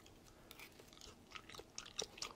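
Close, quiet chewing of grilled black sea bream belly, soft irregular crunchy bites and mouth sounds over about two seconds, with no talk.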